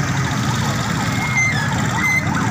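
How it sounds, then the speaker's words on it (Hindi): Ambulance siren wailing at a crowded scene outside a police station in Shersultan, loud and continuous with a rising and falling tone over a dense crowd murmur. "साथ में एम्बुलेंस भी आ चुकी है।"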